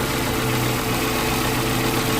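A 2012 Suzuki Mega Carry APV pickup engine idling smoothly up close, a steady, even low hum with no knocks or rattles and no talk.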